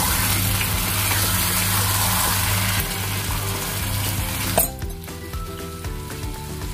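Paneer butter masala gravy sizzles loudly in a pan, with occasional clinks of a spoon stirring gently, before the frying quiets abruptly near the end and leaves softer bubbling and scraping.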